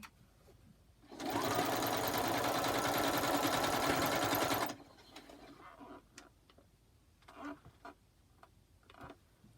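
A sewing machine stitches a quilt block in a quiet room, running in one steady, close burst of rapid buzzing for about three seconds, then falling silent amid faint clicks and handling noises.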